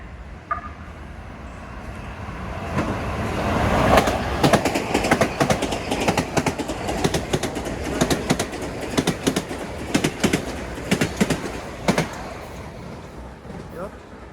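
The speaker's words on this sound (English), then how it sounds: "There's an express train coming." A Metro-North express train thunders through Scarsdale station, a loud rushing roar with rapid clickety-clack of wheels over rail joints building and fading over several seconds, heard up close from the platform with a voice announcement over it.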